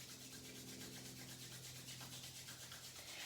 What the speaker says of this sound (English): start to rub the palms together. Even faster, creating heat and friction.